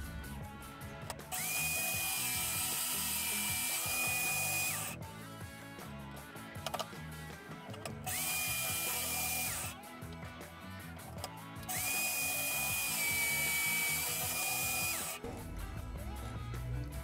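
A power drill bores a perpendicular dowel-sized hole into wood in three separate bursts of several seconds each, steady whining runs broken by short pauses with faint handling noise.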